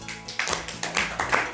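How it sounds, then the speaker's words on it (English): A small audience at a personal-growth talk claps in several uneven bursts, close and fairly loud, with short gaps between rounds and no talking. "clap for yourself first"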